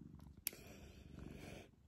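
Domestic cat purring while tucked away in a drawer, a faint, close, rhythmic low rumble with a brief click near the start, no voices.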